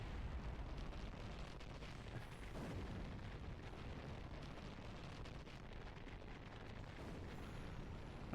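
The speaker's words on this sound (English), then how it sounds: "we get a big nuclear explosion going on" A huge nuclear explosion in a video game, a sustained, dense low rumble that roars steadily throughout at high loudness with no pauses or talk.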